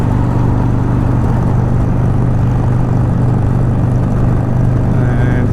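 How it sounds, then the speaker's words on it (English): A loud, constant engine and exhaust roar from Reinhardt pipes on an approaching vehicle on a road near Tijuana, Mexico, fills the scene with steady low rumble and no pauses. "I could hear his pipes already, that's why I knew he was coming"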